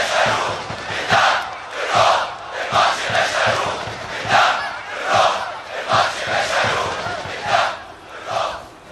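Al Ahly fans in a football stadium chant and cheer in loud, rhythmic surges, a massed crowd roaring in repeated waves from start to finish.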